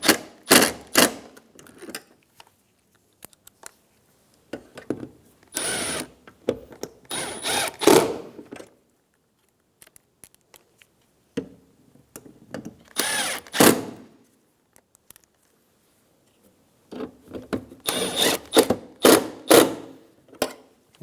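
A power drill drives screws into a replacement fog light assembly on a 2013–2017 Honda Accord, with short whirring bursts of varying length separated by pauses, close and clear.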